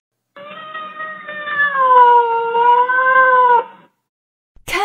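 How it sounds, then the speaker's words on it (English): A domestic cat gives one long, drawn-out meow with a wavering pitch, loud and close, lasting about three seconds before silence. "cat."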